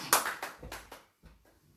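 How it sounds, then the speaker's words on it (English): A church congregation clapping their hands in worship, a few loud rhythmic rounds of claps that fade out quickly. "Clap your hands to the Lord."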